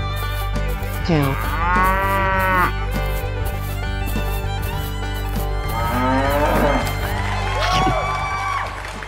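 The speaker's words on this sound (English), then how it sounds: "Cow." A cow moos twice in a long, drawn-out lowing call in an animal guessing game, heard over a steady music track with sounds of the game around it.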